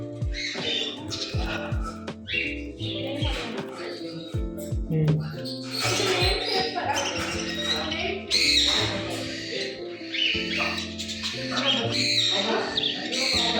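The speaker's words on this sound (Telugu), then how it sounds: "ఇక్కడ కూడా లవ్ బర్డ్స్ ఉన్నాయి, కానీ వైట్ కలర్లో ఉన్నాయి" White lovebirds chirp and squawk in a busy pet shop, a dense chatter of many small birds with sharp repeated calls, close and fairly loud, mixed with other shop noise and a talking voice.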